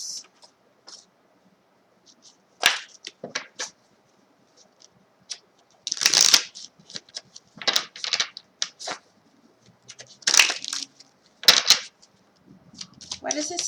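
Tarot cards are shuffled and drawn, giving short, crisp papery flicks and snaps in separate bursts with quiet gaps between them, while a voice talks intermittently.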